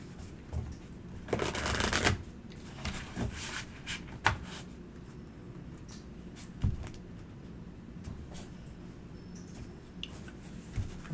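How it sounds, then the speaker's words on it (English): An oracle card deck is shuffled by hand in a series of soft riffling bursts and shorter flicks, close and clear, separated by quiet pauses with light handling noises. "I am shuffling the Human Spirit Oracle"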